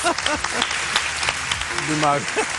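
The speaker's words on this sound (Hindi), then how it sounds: "आपने एक चीज नोटिस की, तालियां कितनी ज्यादा बजी?" Studio audience applause on a morning talk show as a guest from a mind sciences clinic is welcomed, a steady wash of clapping under a host's speech.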